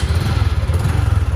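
A used Honda AB motor scooter idling, its small engine giving a steady, even low putter up close with no voices over it.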